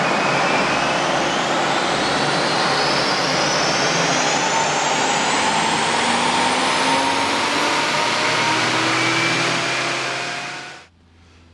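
A car with an automatic gearbox runs on a dyno without its tuning module, the engine roaring loud and close as its pitch climbs steadily through a long pull before dropping away at the end.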